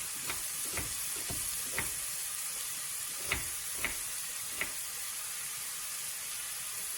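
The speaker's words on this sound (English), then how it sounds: "I'm going to put a lot of onion because I'm going to brown it a little bit." Plenty of onion browning in a frying pan for a breakfast dish, giving a steady soft sizzle with a few brief stirring clicks and scrapes, no talking.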